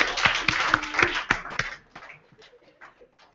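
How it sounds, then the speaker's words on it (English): Audience applause at a 2014 Solent student union election Question Time event, a burst of clapping from a crowd that thins out and trails off into scattered claps. "Let's give him a round of applause"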